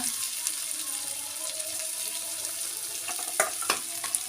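Chopped onion and garlic paste fry in hot oil with five-spice seasoning, giving a soft, steady sizzle and hiss close by, with a few sharper clinks of a spoon against the pan near the end.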